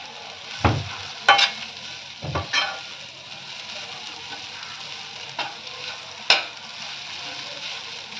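Cluster beans (gavar) with crushed peanuts are sautéed in a pan with a low, continuous sizzle. A spoon scrapes and stirs now and then, giving several sharp clinks and knocks against the metal.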